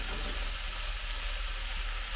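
Cooked pasta tipped into a hot pan sets off a steady, dense sizzle that stays loud and even throughout, with no voices over it.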